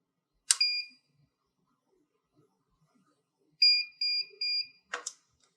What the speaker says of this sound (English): and wait for a series of beeps